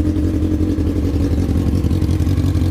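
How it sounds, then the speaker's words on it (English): A Honda Fireblade's engine idles steadily close by in a garage, a smooth, even, low-pitched running hum with a light rhythmic pulse and no obvious rattles. "Engine sounds sweet."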